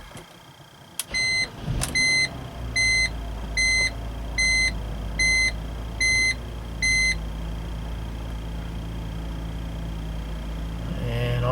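A BMW six-cylinder engine cranks and catches on a cold start, preceded by a row of regular warning chimes, then settles into a steady high idle; a brief spoken phrase appears near the start.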